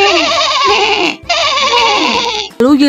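A voice imitates a horse, giving long, wavering neighs that are loud and close, with brief pauses between them.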